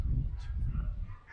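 Hunting dogs chase a wild boar during a driven boar hunt in the woods, giving distant, muffled yelps and whimpering barks over low rumbling background noise for a brief moment.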